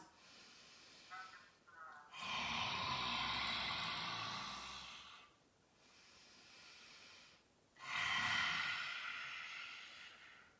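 Two long, forceful breathy exhalations of yoga lion breath with the tongue out, each a harsh hissing rush of air lasting a few seconds, separated by a quieter pause.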